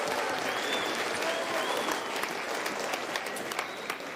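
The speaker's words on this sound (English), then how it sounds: "I just want all of us to give a round of applause to Governor Pakop and his leadership" Sustained applause from an audience at a memorial program for the late Sir Michael Somare, honouring Governor Pakop; steady, dense clapping that holds evenly throughout, with faint crowd murmur underneath.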